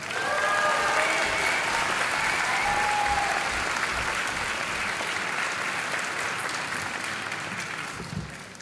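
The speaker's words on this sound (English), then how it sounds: "Should we give the graduates a round of applause?" Audience at a dental diploma ceremony applauds the graduates: sustained, loud clapping from a large crowd that holds steady for several seconds and then slowly thins out.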